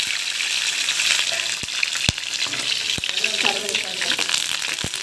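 Green chillies and cumin seeds crackle in hot oil for jeera rice, a continuous bright sizzle broken by a few clear knocks of a spoon against the pan.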